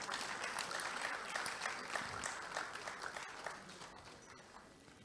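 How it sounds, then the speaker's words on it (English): A lecture audience applauds warmly, a fairly quiet, dense spread of clapping that gradually fades over about five seconds. "a big round of applause to everybody here"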